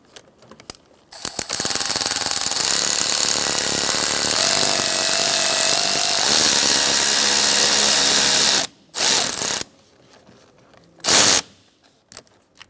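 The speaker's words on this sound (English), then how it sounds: "Now we're going to tighten this down onto the battery." A power driver tightens a battery terminal clamp on a 2014-2019 Kia Soul: one loud, steady whirring run of about seven seconds, then two short bursts, with quiet gaps between.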